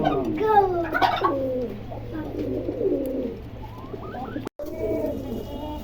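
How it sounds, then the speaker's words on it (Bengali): A pair of pigeons at a bird sale coo repeatedly, soft throaty calls rising and falling close by, with a steady low hum underneath and a brief dropout near the end. "খুবই চমৎকার এক জোড়া কবুতর"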